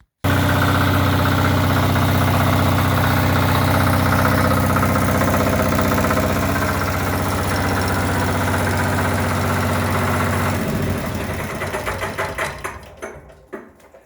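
Chinese engine fitted to a Motor Sich walk-behind tractor running on its first start, a loud steady mechanical drone that shifts pitch partway through, then sputters and stops.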